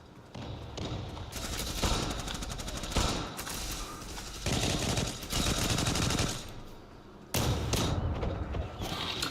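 Rapid automatic gunfire from the video game Zula, long bursts of dense rattling shots broken by short pauses, loud and close throughout.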